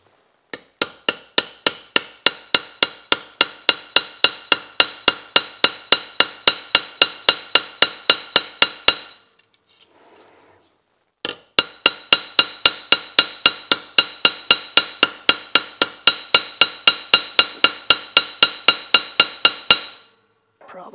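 Hammer striking Renzetti metal cooling fingers in rapid, evenly spaced sharp metallic clinks, two long runs of dozens of blows with a brief pause between, close and bright.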